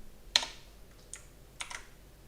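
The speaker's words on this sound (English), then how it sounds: "now we're going to go and type it in there" A few scattered keystrokes on a computer keyboard, quiet and close, with irregular gaps between taps and no talking.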